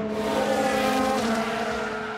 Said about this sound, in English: There's the crash!